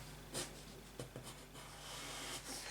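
Pencil drawing on a sewing pattern for an empire-waist princess dress, with faint, soft scratching strokes and a few brief taps against a quiet background hum.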